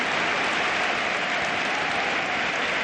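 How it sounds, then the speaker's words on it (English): Home fans at Real Betis' football stadium applauding, a dense, steady roar of clapping from a large crowd, sustained and loud throughout. "there's even applause from the home fans"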